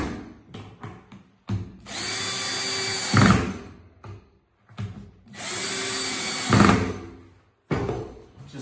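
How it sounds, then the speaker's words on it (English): A power drill drives screws into a board being mounted on a wall, in two steady, loud whirring bursts that end in a strained grind, with clicks and handling noises between them and no talk. "you're going to drill these in here"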